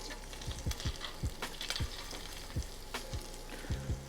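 Butter sizzling in a hot skillet alongside crisped leftover steak for a Philly cheesesteak dip: a steady close frying hiss with scattered soft pops and clicks from the pan, no voices.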